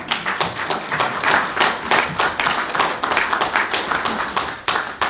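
Church congregation clapping in praise during a Spanish-language service, uneven bursts of hand claps with a loose rhythm, fairly close and moderately loud.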